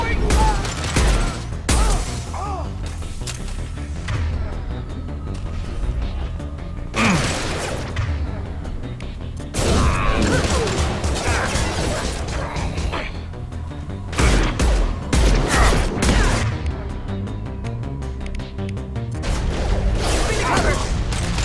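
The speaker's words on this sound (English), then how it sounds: "Starting an impact gun!" Impact gun firing in the Mass Effect video game, heavy bursts of shots and booming hits recurring across a loud combat scene, with some voices mixed in.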